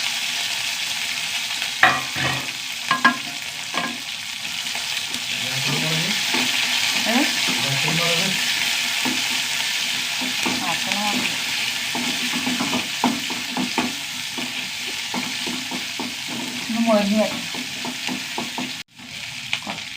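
Mustard seeds, shallots and curry leaves frying in hot oil: a steady, loud sizzle with stirring scrapes throughout and a few sharp crackles and pops near the start.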